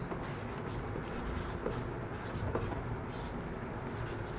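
Chalk or a marker scratches across a board during a physics lesson in a classroom, a steady quiet scraping under a constant hiss of background noise with no talking.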